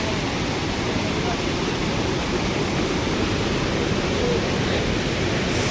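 A powerful river in Manali rushes in a dense, continuous roar of churning water, loud and steady throughout with no pauses.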